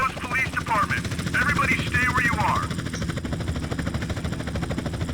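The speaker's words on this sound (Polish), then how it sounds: "Helikopter." Helicopter in the video game GTA San Andreas gives a continuous low rotor thump and engine drone throughout, with game characters talking over it in the first half.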